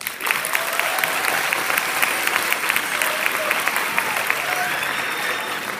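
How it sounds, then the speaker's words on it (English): Steady, loud audience applause filling a school gym at a spring fine arts showcase, dense continuous clapping from a large crowd without pause across the whole stretch. "Let's recognize their hard work and talent with a round of applause."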